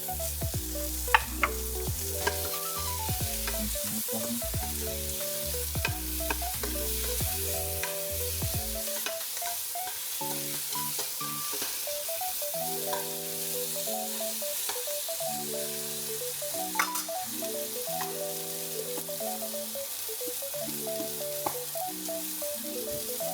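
Ginger and onion sauté in a hot pan with a steady loud sizzle and light stirring scrapes, heard under background music, with no voices.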